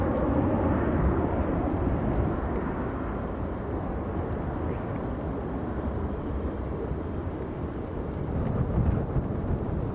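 A Ryanair airliner bound for Londonderry at Manchester Airport gives a steady, broad engine roar that holds at a fairly constant level for the whole stretch, with wind noise mixed in and no voices.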